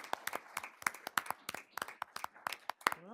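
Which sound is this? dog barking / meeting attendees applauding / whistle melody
meeting attendees applauding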